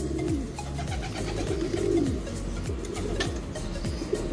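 Several racing pigeons coo repeatedly in soft, rolling low calls that overlap one another, close and steady throughout, with no talking over them.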